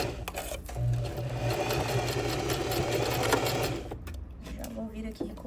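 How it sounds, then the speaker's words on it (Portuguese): A sewing machine steadily stitches bias binding for a finishing edge, its whirring motor running continuously with a rhythmic mechanical hum, then slowing and stopping near the end. "E a gente vai costurar ele fora."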